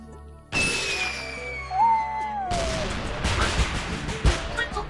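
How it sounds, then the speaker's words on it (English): A gunshot sound effect from the PS4 VR Playroom game bursts out with a sharp onset, then sustains a dense, noisy crackle with fast rising and falling tones, loud and close, with another sharp hit near the end. "Gunshot one."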